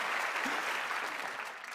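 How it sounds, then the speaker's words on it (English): An audience at a keynote presentation applauds volunteers as they return to their seats, a brief, even wash of clapping from a large crowd. "could we give these people a big round of applause as they have a seat?"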